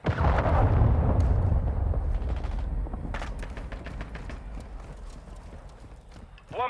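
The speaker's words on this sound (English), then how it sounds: "Friendly cruise missile deployed." Cruise missile explosion in Call of Duty: Modern Warfare II, a heavy booming blast at the start that rumbles and decays over several seconds, followed by scattered gunfire cracks and clatter.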